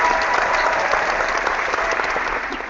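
An audience at a comedy awards show on the Oscars claps steadily, a dense, even burst of applause that fades slightly at the close.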